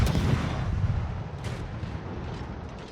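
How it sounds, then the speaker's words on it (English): Naval guns of the destroyer Gearing firing in a naval warship game, a deep heavy rumbling boom that rolls and fades over a few seconds, loud and close, with no voices. "So I might as well just open up on the guns"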